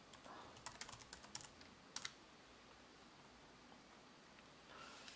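Fingers tap out a password on a computer keyboard in a quick burst of close, light clicks, then a short pause and a couple more keystrokes, over a faint steady hiss.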